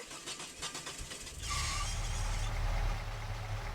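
A truck engine in a video game cranks with a short hiss and squeal like a slipping belt, then catches and settles into a low, steady idle rumble.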